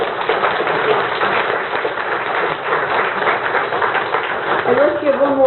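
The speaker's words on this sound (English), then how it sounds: "let's give them a round of applause for showing up here" Lecture-hall audience applauding at a community education forum on glass recycling, a steady wash of clapping throughout, with a voice beginning to speak over it near the end.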